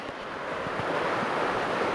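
Wide, deep mountain river rushing along on the Parang La trek, a dense steady roar of water that stays loud and unbroken from start to finish, with no voices.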